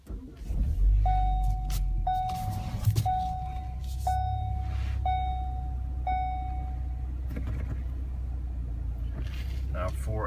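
A 2015 Ford Focus ST with the ST3 Recaro package starts by push button: a low engine rumble settles into a steady idle, while a repeated electronic chime sounds about six times over it.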